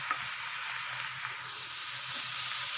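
Cauliflower, potato and capsicum sabzi fries on a high flame, a steady close hiss of sizzling oil running throughout with occasional faint scrapes of stirring.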